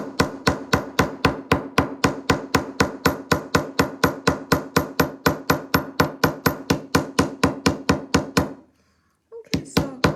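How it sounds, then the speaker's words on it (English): Hammering a wire spiral for a gemstone donut brooch: rapid, evenly spaced metallic taps, about four per second, sharp and close. They run steadily for eight seconds, stop, and one or two more taps follow after a brief silence. "So now we're just going to have to be very careful not to hit the donut as we hammer the spiral."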